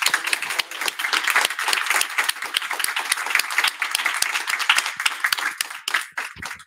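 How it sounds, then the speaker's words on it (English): An audience applauds panelists at the close of a venture capital investor forum, with dense, sustained clapping across the whole stretch that thins out slightly near the end. "So a round of applause for our panelists,"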